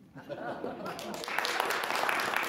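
Audience applause building from scattered claps into fuller, sustained clapping from a studio crowd, mixed with murmurs and light chuckles.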